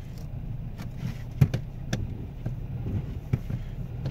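A Kia Optima idles in reverse while its transmission is tested, a low steady engine rumble with a few faint clicks and knocks scattered across the clip and no voices.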